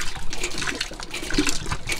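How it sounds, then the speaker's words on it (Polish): Water pours and splashes steadily from a leaking solar collector, a continuous close, loud rushing flow with no pauses. "No i woda się leje."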